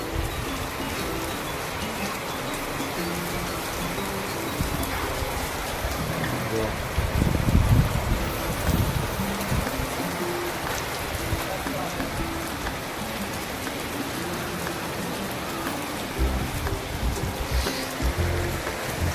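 Steady rain falls all around in an even, continuous patter, swelling briefly louder midway, with faint background sounds mixed in.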